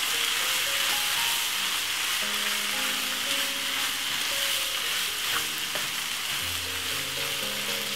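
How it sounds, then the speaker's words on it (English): Food sizzles steadily in a pan while being stirred, for a tuna pasta dish seasoned with paprika and sweet corn. The hiss is constant and close, with soft scraping strokes and a faint tonal background, and no voices. "Give it a nice stir."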